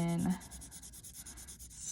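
Graphite pencil shading on paper, pressed hard for the darkest value, a soft continuous scratchy rubbing that runs steadily for two seconds after a brief louder bump at the start.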